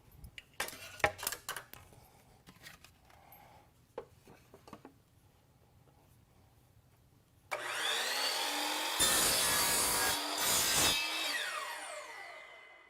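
A miter saw cuts through wooden baseboard trim in one loud, sustained whine with a brief dip partway through. Quieter handling knocks and taps come first, and no one speaks.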